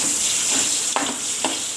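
Onion is sautéed in a hot pan, giving a bright, steady sizzle with two or three soft stirring scrapes, close and moderately quiet, with no talking.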